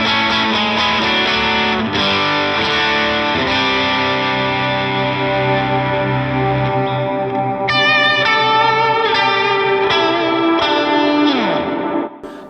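Electric guitar chords and single notes ring out through a POD Go amp modeler with lush reverb and chorus, sustaining and fading into washes of echo.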